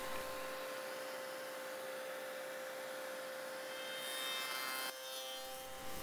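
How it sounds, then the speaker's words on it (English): Woodworking slotting machine with its feeder running at full speed, a steady continuous mechanical whir and hum with a faint grinding rub, close and loud throughout, a slight shift in tone near the end. "Switch on machine and feeder and wait until machine reaches on maximum"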